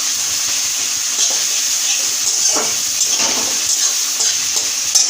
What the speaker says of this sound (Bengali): পেঁয়াজটা একটু নাড়বো যতক্ষণ না গোল্ডেন হবে।